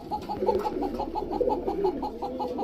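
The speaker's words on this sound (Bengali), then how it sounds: "দেখেন ককাটা ওই পাশে কেমনে ডাকতেছে" A male giribaz high-flyer pigeon coos in a rhythmic, repeating pattern, close and fairly loud, with soft bird sounds around it.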